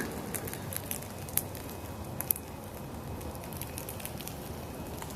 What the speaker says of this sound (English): That fire is nice and warm, nice and toasty right now.